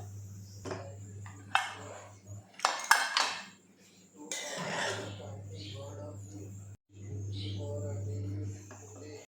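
Dishes are washed under a strong flow of tap water: running water hisses in bursts between sharp clinks and clatters of pots and utensils, close and moderately quiet.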